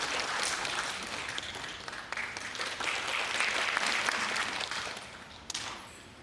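Steady applause from an audience at a humanities lecture fills the room, a dense even wash of many hands clapping that holds for several seconds before easing off.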